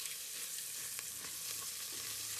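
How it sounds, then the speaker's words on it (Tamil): Onions frying in a clay pot, sizzling steadily and densely for the whole stretch with faint scraping stir noises, close and alone with no voices. "நம்ம ஆனியனும் நல்லா கருகிட்டு வருது"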